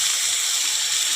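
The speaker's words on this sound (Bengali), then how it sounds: "চলো অল্প জল দিয়ে দেবো বন্ধুরা। দেখো আমি এতটাই জল দিচ্ছি।" Water poured into an egg curry, a steady close hiss and gush with no break and no talk.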